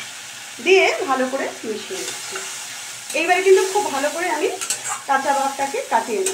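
Onion, ginger, garlic and green chilli are stirred in a hot pan with a steady close sizzle and scraping, heard under someone talking throughout.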